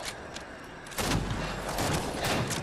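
Gunfire in a shooter video game, a rapid burst of shots breaking in after a quieter stretch, continuing as dense, loud popping to the end.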